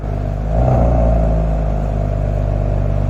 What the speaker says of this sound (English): So here's the sound of the exhaust in comfort mode,